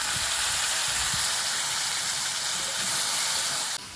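Cut cauliflower and potato fry in a pan with a loud, steady, close sizzling hiss that runs throughout and cuts off abruptly just before the end.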